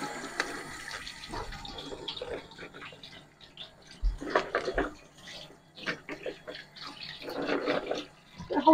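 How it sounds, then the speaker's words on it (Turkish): Running tap water splashes over raw carrots being rinsed in a kitchen, a steady uneven wash with brief louder bursts, some clattering, and faint talk in the background. "Havuçları su görsün diye yıkadım sadece."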